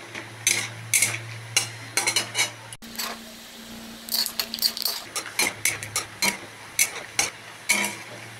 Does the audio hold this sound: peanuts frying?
yes